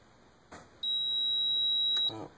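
A multimeter gives a continuity beep across an HVAC float switch, one sustained high electronic tone of about a second framed by soft clicks of the test leads, fairly quiet and alone.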